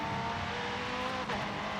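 McLaren P1 or McLaren Senna supercar cornering through a sharp turn in the Forza Horizon 5 racing game, a steady loud engine roar with faint tire noise, no speech.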